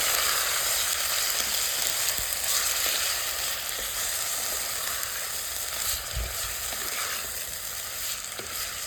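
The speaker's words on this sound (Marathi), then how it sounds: "फ्लावरचे देठ, हळद, चवीनुसार मीठ व्यवस्थित परतून घेऊ।" Cauliflower stems sautéing with turmeric and salt in a pan, giving a continuous close hiss and crackle with occasional light stirring knocks, steady and even for several seconds without any voices.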